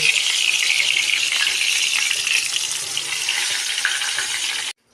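Eggplant slices fry in hot oil with a loud, continuous close sizzle and crackle that holds steady, then stops abruptly.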